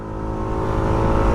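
A 125–160cc scooter, a Suzuki Burgman Street 125 or Hero Xoom 160, accelerates at full throttle on a road, its engine a steady, loud drone that builds slightly through the short stretch, with no talking.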